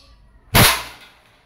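A Crosman 2240 airgun pistol fires once at a can target about two meters away, a single sharp, loud crack with a short fading tail, standing alone against a quiet background.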